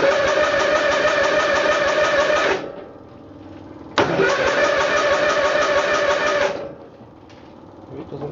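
A small tractor engine on a cold start roars to life in two loud bursts of running, each about two and a half seconds long, with a quieter lull between them and a cut-off at the end.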